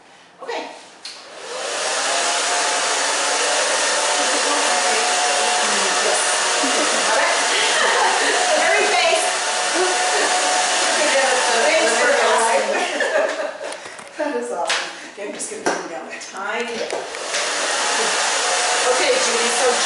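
A hair dryer blows steadily and close by while a short pixie haircut on an older woman is dried and styled, with brief chuckles and voices around it and the airflow wavering near the end.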